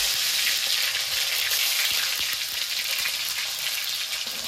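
Chopped tomato dropped into hot oil already tempered with dry red chillies and whole cumin, giving a loud, continuous sizzle and crackle of frying from start to finish with no talk over it.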